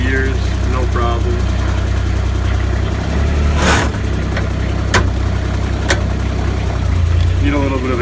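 Kubota RTV 900 utility vehicle engine running steadily at close range with a low, continuous drone as it shifts through its gears, with a few sharp clunks and knocks over the idle.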